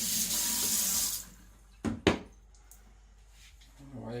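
Tap water runs steadily into a sink while a Japanese Eden Kanso Aogami steel gyuto knife is washed, a close, even hiss that stops after about a second, followed by a couple of sharp knocks and quiet handling.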